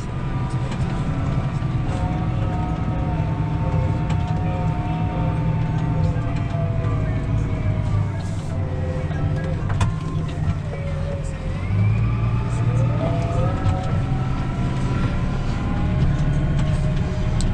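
Tractor pulling a harrow across a dusty spring field at about 12 km/h, a steady low engine drone with rattling implement noise throughout and someone speaking now and then over it.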